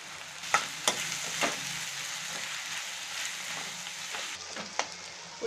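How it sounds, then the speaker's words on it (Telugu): Onion pieces fry in a pan, giving a soft continuous sizzle broken by a few sharp clicks and knocks of stirring, close up with no talk. "ఇప్పుడు ఉల్లిపాయ ముక్కలు వేసి వేయించుకుందాం"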